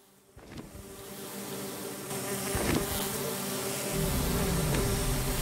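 Buzzing of Minecraft bees fills the scene, a steady, close droning hum that thickens and grows louder partway through, with a few brief game effect sounds over it.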